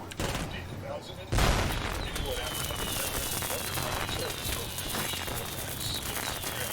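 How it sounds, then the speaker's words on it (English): Fireworks in the video game Shadow Warrior 2, a dense crackling volley of bursts that starts with a sharp loud blast and keeps popping in a steady rapid stream, with faint whistling streaks overhead. "I'm happy that Shadow Warrior kept that in their game. The fireworks."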